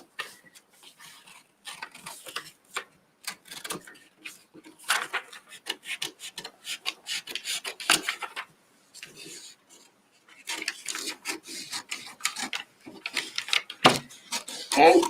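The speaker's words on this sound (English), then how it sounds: "I'm going to go ahead and just cut this out" Scissors cut through a paper sewing pattern piece close to the microphone in short, crisp bursts of snipping and rustling, separated by brief pauses.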